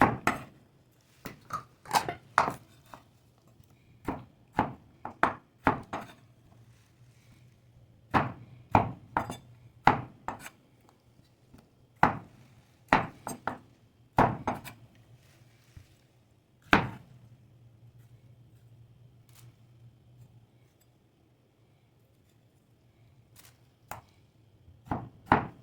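Tomatoes being chopped on a cutting board for bangus sinigang: a steady run of close, sharp knife strikes with short pauses between bursts, then a brief quiet stretch before a few final chops.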